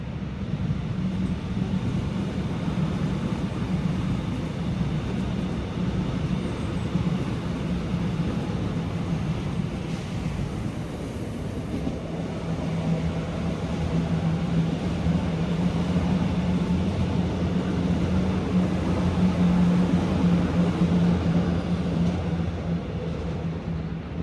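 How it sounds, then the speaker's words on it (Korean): A Seoul subway Line 1 train rumbles past near a children's park, a steady, broad low drone lasting the whole stretch and growing slightly heavier and more tonal in the second half. "어린이 공원 앞에서 1호선 지하철의 소음을 직접 체크해 보도록 하겠습니다."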